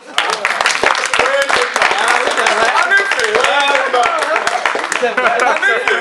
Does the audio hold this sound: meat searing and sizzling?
no